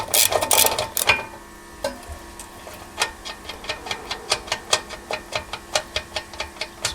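An 11/16 socket wrench ratcheting out bumper bracket bolts on a Jeep Cherokee XJ: a few louder handling knocks, then a steady series of crisp, close ratchet clicks in an even rhythm.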